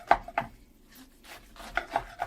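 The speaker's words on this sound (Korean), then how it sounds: "적당하게 짜가지고 먹기 좋은 크기로 썰을게요" Knife chopping squeezed, soft seasoned namul greens into bite-size pieces on a cutting board for a Korean full-moon festival side dish; about six soft, damp thuds in an uneven rhythm, close and fairly quiet with no talk.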